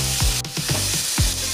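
Tomato, carrot and dried red chillies sautéing in a pan, a close, continuous sizzle with several quick stirring scrapes.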